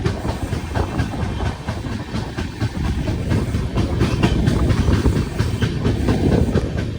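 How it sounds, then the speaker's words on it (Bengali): The Samaleswari Express from Jagdalpur to Howrah rounds a curve, with a loud, continuous rumble and rhythmic clickety-clack of wheels on rail joints and no voices. "এত সুন্দরভাবে ট্রেনটা ঘুরছে"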